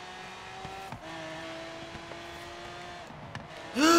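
A Koenigsegg Agera-family engine note in the Forza Horizon 3 racing game, a steady sustained hum that shifts pitch slightly through the run and swells louder right at the end.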